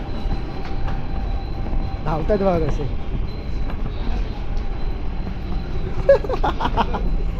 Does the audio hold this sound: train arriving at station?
yes